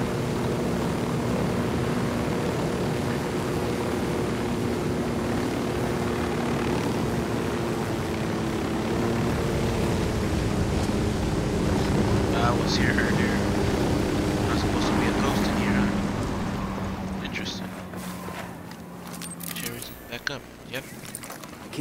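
A drone in the video game Ghost Recon drones steadily at close range, a sustained motor hum that fades out near the end, followed by brief clicks and short game sounds.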